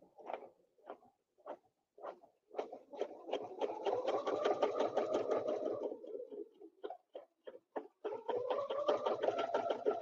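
A quilting sewing machine with a size 90 needle, 40 weight top thread and 60 weight bobbin thread stitches in short quick bursts, then longer runs with a steady whirring rhythm, separated by brief pauses, fairly quiet and close.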